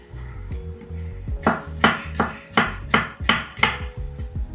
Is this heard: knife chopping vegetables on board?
yes